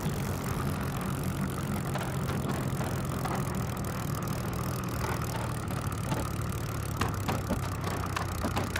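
Steady, loud drone of a Hawker Typhoon warbird's piston engine in a flight simulator, running continuously with a rough, rumbling texture and no gaps.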